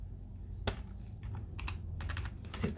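A password is tapped out on a computer keyboard in a few quick, quiet bursts of keystrokes with short pauses, heard close against a low room hum.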